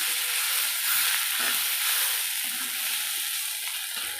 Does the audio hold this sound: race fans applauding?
no